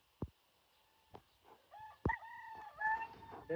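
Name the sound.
roosters crowing in the morning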